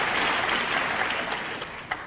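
A crowd applauding a pool shot during an Earl Strickland versus Francisco Bustamante match, a dense, even patter of clapping that fades slightly as it goes on.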